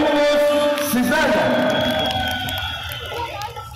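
A crowd at a lantern procession event in Konya cheers and shouts in a loud, continuous wash of voices, with a few whoops rising above it, fading slightly toward the end.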